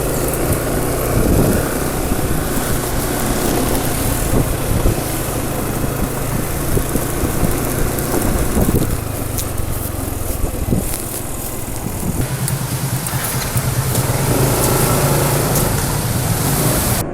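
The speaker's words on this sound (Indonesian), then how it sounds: "RPM mesin nggak cepet turun, suara mesin juga halus mulai dari bawah sampai atas" An engine treated with a silicone oil mixture additive runs steadily, a continuous close mechanical hum and whir with a rough, dense texture and a slight dip in level midway, with no voices.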